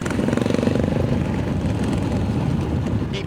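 A big bore four-stroke dirt bike engine runs steadily and loud up close, a dense throbbing drone that holds level throughout with a brief higher rasp near the end.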